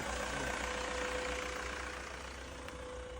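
Mercedes E211 E-Class 2.2 CDI diesel from 2002, with EGR disabled, running at a steady, loud droning idle with a constant tone and rough low rumble throughout, heard close up with no talking.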